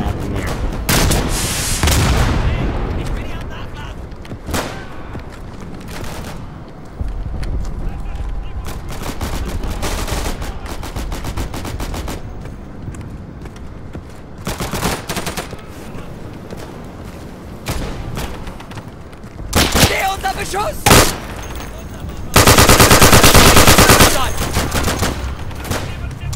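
An STG 1944 assault rifle firing in the World War II shooter Day of Infamy on a beach assault, loud bursts and rapid automatic volleys mixed with surrounding gunfire and booms, dense and close, with no talking.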